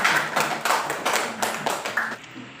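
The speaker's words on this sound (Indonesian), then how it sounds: "Tepuk tangan untuk teman kita Ulan." A class of students clapping for their classmate Ulan, several quick rhythmic bursts of hand claps close by, steady and fairly loud for a couple of seconds, then stopping.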